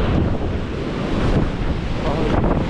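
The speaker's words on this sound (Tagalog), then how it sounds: "talagang malalaki ang alon dahil sa ano ng hangin, habagat" Large ocean waves whipped up by the southwest monsoon wind, a loud continuous roar of surf and heavy wind buffeting the microphone out at sea.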